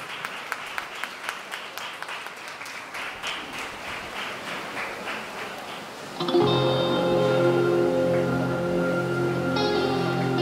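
At a YMCA Vapi talent hunt award ceremony, an audience claps in a rhythmic patter that builds, then loud music with sustained tones swells in and carries the applause to the end.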